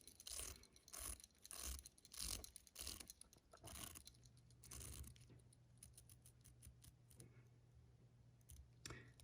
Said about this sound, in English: It's a bi-directional rotating bezel, so we can go clockwise or we can go counterclockwise.